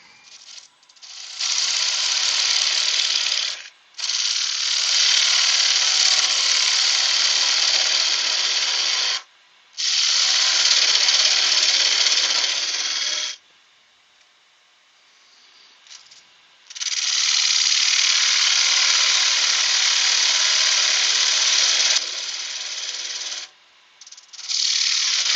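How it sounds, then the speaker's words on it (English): Excess timber cut away from a wooden vase, a loud bright rasping hiss in long sustained passes broken by short pauses, close and alone. "Just remove the excess timber."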